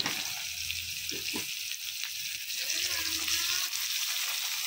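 Onion sizzles in hot oil in a vegetable pan, a steady close frying hiss with a few stirring knocks and a faint voice in the background.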